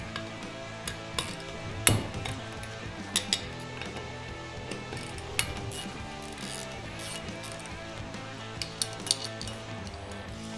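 Metal tools clink and tap while four Allen bolts are removed from the back end of a giant washer pump, with scattered faint ticks and a few sharper knocks over a quiet hum.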